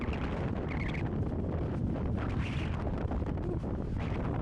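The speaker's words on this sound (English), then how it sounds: "It is quite a windy Saturday morning here in Dublin. If you can't tell, everything's flying around." Strong gusty wind on a bridge in Dublin city centre on a Saturday morning blasts the microphone in loud, continuous rumbling buffets.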